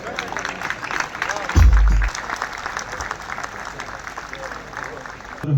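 Audience applause at a Diwali morning cultural program in Nanded, steady clapping from a crowd through most of the stretch, with a loud thump partway through and a voice over it.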